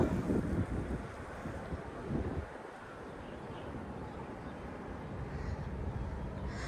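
Gusty wind on a mountain top buffets the microphone, rumbling strongly at first, then easing into a steadier rush of air.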